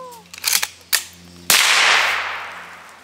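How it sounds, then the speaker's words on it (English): Rifle shots from a .22LR and an M44 ring out outdoors: a few small sharp cracks, then one much louder close blast whose echo decays over the following second, with no voices. "It sounds like a gun shootout or something."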